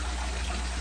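Steady water flows through a bell siphon in a backyard crayfish pond filtration setup, a continuous soft gushing and trickling wash with a low hum underneath, no voices.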